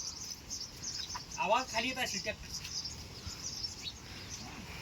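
Near a farm, a bird calls in a short burst of chirping notes, moderately close, over a background of insect buzz and outdoor hiss.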